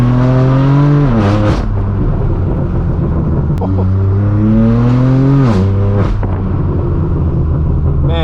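A straight-piped BMW M4 F82 drives on a twisty road, its loud exhaust droning steadily with repeated revs rising and falling between gear changes, close and continuous.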